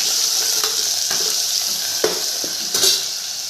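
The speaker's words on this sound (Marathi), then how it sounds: "मस्त एकदम असा तडका बसला पाहिजे नंतर हिरवी मिरचीचं वाटण टाकते हलवून घ्यायचं छान" Green chili paste goes into a sizzling tempering of hot oil and is stirred, giving steady frying hiss with scattered scrapes and clinks of a spoon against the pan, close and continuous with no voices.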